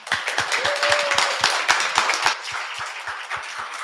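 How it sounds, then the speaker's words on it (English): A small group claps for a guest at the close of a Q&A session, the individual claps distinct and fairly close, a steady rhythm that eases off slightly toward the end. "I want to give Tracy one more round of applause"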